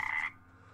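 A frog in Metro Exodus gives a single short, raspy croak, close and fairly quiet, then cuts off into low background ambience.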